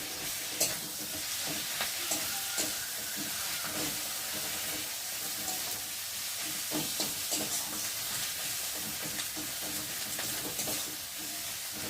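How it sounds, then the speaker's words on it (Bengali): Masala with tomato and ground cumin frying in a pan for a thin summer chicken curry, a steady close sizzle and hiss with occasional stirring scrapes throughout, no voices. "তারপরে দেবো টমেটো। দিয়ে মশলাটাকে ভালো করে ভেজে নেব।"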